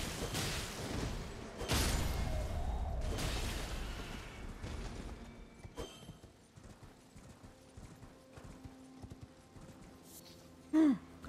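Horse hooves clip-clop in Elden Ring, a loud burst of rushing impacts at first, then lighter irregular hoof beats under faint game sounds, ending with a couple of sharp thumps.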